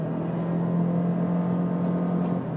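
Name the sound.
Lexus RC 2017 CVT engine sound when accelerating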